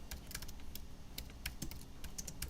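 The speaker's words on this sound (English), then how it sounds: "is my keyboard in a weird position that I can't type today?" Rapid, uneven keystrokes on a computer keyboard during a livestream of a tic-tac-toe game being coded, crisp close clicks in short bursts with no talking.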